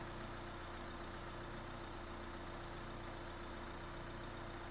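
A vehicle engine idles steadily in a cold garage or roadside setting, a continuous low rumble with a constant broadband hum that holds even and unbroken throughout, with no voices over it.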